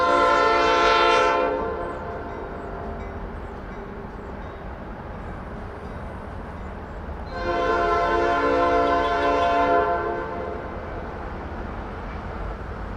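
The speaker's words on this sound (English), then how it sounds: "we heard SD40-2 number 3302's P5 ring out once again" The P5 horn of SD40-2 locomotive 3302 sounds in two long chorded blasts, one at the start and one midway, ringing out loud and clear over the steady rumble of a train near Richmond, Virginia.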